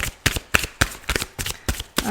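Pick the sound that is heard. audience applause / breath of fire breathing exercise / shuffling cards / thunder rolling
shuffling cards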